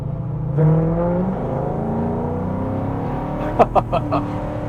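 A classic right-hand-drive Ford Mustang Fastback's engine hums steadily from inside the cabin, rising in pitch as it accelerates, with a few brief knocks near the end.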